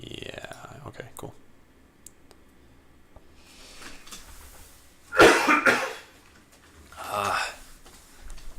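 A streamer coughs a few times into a close microphone, a sharp loud burst followed by a softer second cough, with quiet breathy noises and faint clicks between.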